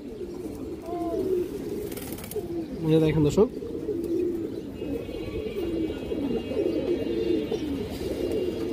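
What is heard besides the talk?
silver pigeons cooing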